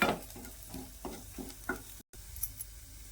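Satara-style red chili spice mix stirred in a pan for a potato bhaji, giving a steady series of close scraping strokes about three per second with a light sizzle underneath and no voices.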